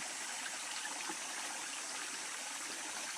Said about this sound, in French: Et là on a une petite une cascade quoi, qui est formée par la racine de l'arbre qui est en haut